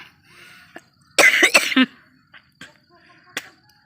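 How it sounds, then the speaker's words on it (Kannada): A woman with a persistent cough lets out a short burst of several harsh, close coughs, followed by a few faint clicks and soft sounds in a quiet room. "ಕೆಮ್ಮಲ್ವಾ ತುಂಬ ಆಗ್ತದೆ ನನಗೆ"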